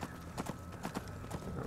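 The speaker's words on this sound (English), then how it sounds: "this horse runs around like he's fucking drunk" A horse gallops through the Soul Cairn in Skyrim, a quick run of rhythmic hoof clip-clops over a steady low ambient drone, fairly faint and without talk.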